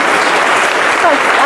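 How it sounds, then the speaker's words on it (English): Audience applause welcoming a speaker at an event, a loud, dense and steady wash of many hands clapping, with a faint voice surfacing near the end. "Let's hear a warm welcome for Helen."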